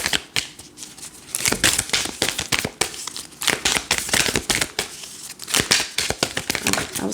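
A tarot card deck is shuffled by hand in dense bursts of crisp, rapid riffling and slapping card sounds, close and continuous with brief breaks.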